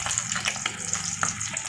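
Prawn pakoda, tiger prawns in batter, frying in hot oil, giving a steady close crackle and sizzle with scattered pops and bubbling and no talk.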